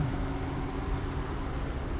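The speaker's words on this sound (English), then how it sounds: "The engine's running, the AC's running." A 2006 Toyota Sienna LE minivan idles with the AC running: steady, low engine rumble blended with a constant airy blower hiss, unchanging and close, with no voices.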